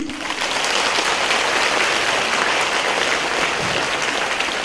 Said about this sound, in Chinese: 你们鼓掌